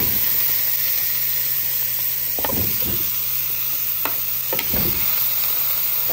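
Pork hock (pata) sizzles in a pot of patatim, a steady broadband hiss of frying with a low hum underneath and a few clanks and scrapes of stirring, close and continuous with no talking.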